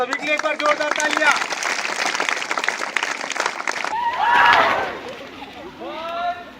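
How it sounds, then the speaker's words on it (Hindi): Audience applause at a dance performance of devotional songs during a Hindi news segment: a dense burst of clapping fills the first four seconds, then fades as excited voices and shouts take over. "आप सभी के लिए एक बार जोरदार तालियां।"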